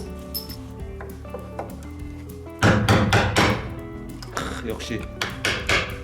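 A hammer knocks parts off a Chevrolet Spark light car, starting as quieter clinks and then a run of loud, sharp metallic strikes in quick irregular succession, close up, while someone speaks briefly.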